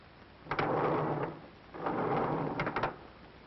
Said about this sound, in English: the most difficult of all sound effects to achieve, the opening and closing of elevator doors